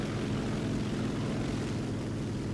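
Engine of a Tandem MAI aircraft just after takeoff in War Thunder: a loud, continuous propeller drone with a dense, steady roar and no break.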